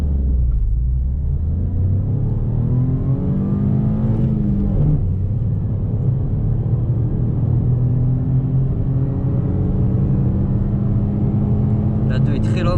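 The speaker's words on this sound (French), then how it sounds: "c'est parti pour tester au 0-100 pour voir l'efficacité de l'accélération du freinage." A Peugeot 208 II with the 1.2 VTi 75 hp engine accelerates hard from 0 to 100 km/h, its loud, close rumble rising in pitch through the gears with a shift partway through.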